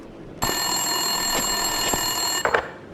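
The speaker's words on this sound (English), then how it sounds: "Winterson's phone was ringing." An office telephone rings on an empty desk in Max Payne 2: after a short quiet lead-in, a sustained bright electronic ring starts and holds for about two seconds, then breaks into a couple of shorter bursts, close and alone.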